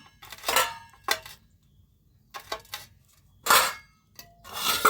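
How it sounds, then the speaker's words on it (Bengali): A knife chopping freshly picked green chilies on a board in a home kitchen, several short scraping bursts of rapid cuts separated by quiet pauses, close and moderately loud. "এই যে মিহি করে লঙ্কা কুচিয়ে নেব"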